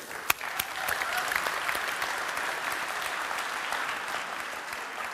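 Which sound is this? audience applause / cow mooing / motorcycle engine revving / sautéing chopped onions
audience applause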